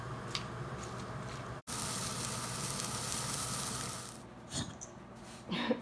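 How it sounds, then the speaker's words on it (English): Chilies roast in a hot pan with a loud, dense, continuous sizzle that cuts out for a moment, runs on steadily, then fades into quieter crackles and small knocks near the end. "Go ahead and start these chilies roasting"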